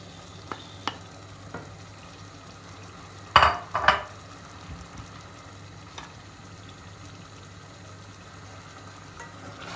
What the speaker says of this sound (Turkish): Rondodan geçirdiğimiz domatesimizi ilave ediyoruz.